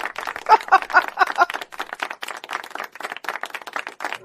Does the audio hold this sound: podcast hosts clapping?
yes